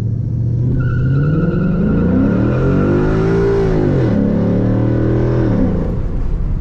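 A 2011 Mustang GT with a Roush axle-back exhaust launches hard on a dry road, its loud, close exhaust rising in pitch, dipping briefly at a shift, then climbing again.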